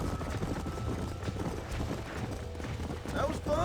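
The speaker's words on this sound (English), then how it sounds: "These are fine horses." Horse hooves clip-clopping on a ranch in the video game Red Dead Redemption 2, a steady run of close hoofbeats with voices talking over them and a brief whinny near the end.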